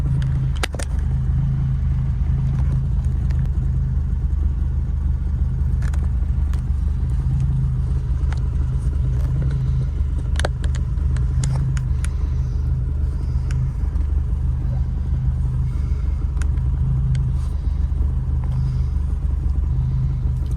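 A Lotus Elan restomod drives along with a steady low engine rumble and road noise, holding a constant level throughout with occasional faint clicks and no talking.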